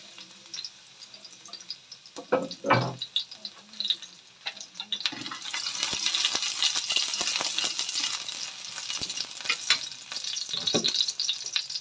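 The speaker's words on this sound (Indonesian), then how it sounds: "kemudian tumis bawang putih" Garlic sautéing in a pan of hot oil for a simple stir-fried lettuce dish, a steady sizzle with occasional clattering stirs and louder bursts of frying, close up with no talking.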